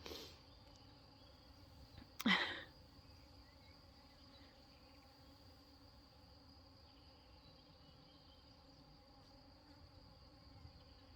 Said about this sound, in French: il y a des moments où le bourdonnement se rapproche très fortement de moi